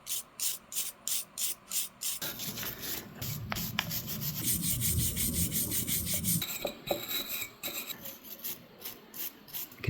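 A brush scrubs rust and corrosion off the ground terminal spot on a 1984 Yamaha XT600 motorcycle, starting with quick rhythmic strokes then a longer continuous rasping scrub, close and fairly loud with no talking.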